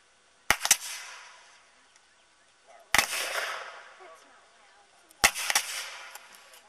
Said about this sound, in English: see that rippling effect of firing by files now